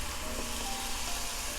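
Pork chops brown in a frying pan with a steady, soft hiss of sizzling fat, even and continuous without pauses or talk.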